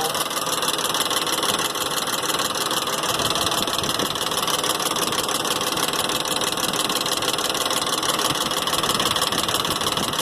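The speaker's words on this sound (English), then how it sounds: "So I'm assuming this is from the exhaust manifold." Idling V8 of a 2001 Ford Expedition with a leaking exhaust manifold, a loud, steady engine drone with a fast ticking, puffing exhaust leak running continuously and close up.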